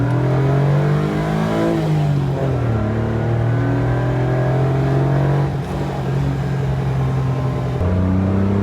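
Old 1980s car engine growling while driving, a loud low drone that rises and falls as it revs and shifts, close and continuous.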